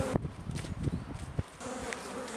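Honey bees buzz around an aggressive hive during a swarm-control hive move, a close, steady droning hum with occasional sharper taps and bumps mixed in.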